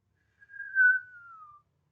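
One sustained whistle, fairly soft, swelling in the middle and slowly sliding lower before fading out, with no other sounds around it.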